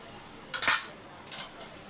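Chicken fried rice being tossed in a pan, two sharp metallic clinks of a utensil against the pan about half a second apart over quiet background, without talk.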